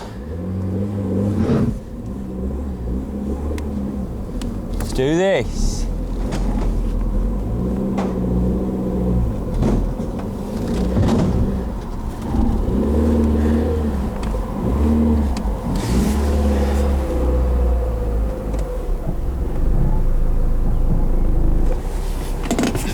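An old Mini scrap car's engine runs steadily and is revved up several times, with a loud, continuous rumbling that swells and dips throughout, and a brief voice near the start.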